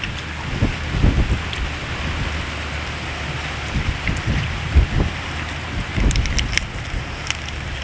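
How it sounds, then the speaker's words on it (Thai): Dry wind blowing outdoors beside fish roasting in salt, a steady rushing hiss with irregular low buffeting gusts and scattered crackles, fairly loud and with no voices. "โอ้ลมแห้งลมแห้ง"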